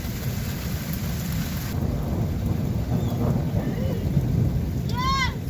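Steady heavy summer rain with a low rumble of thunder rolling underneath, continuous and fairly loud, with a faint chirp near the end.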